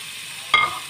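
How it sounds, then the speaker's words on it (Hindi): Vegetables and bitter gourd start to fry in a hot pan, cooking for a Karela sabzi. A sudden sizzle flares up as they hit the oil and settles into a steady hiss, close and fairly quiet. "अब मैं इसमें इन सब्जियों को थोड़ा फ्राई कर रही हूँ"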